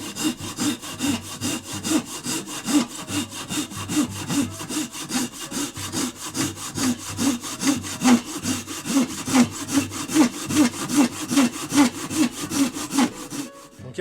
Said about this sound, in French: Si je prends maintenant ma scie, la Ryoba, avec la dentition faite pour le rip cut, c'est-à-dire dans le sens du fil du bois